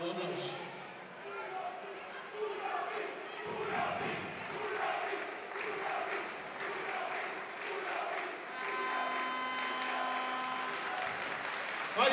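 A crowd at a women's volleyball match between CSM Volei Alba Blaj and ASPTT Mulhouse claps and cheers continuously throughout, while a voice talks over an arena public address system.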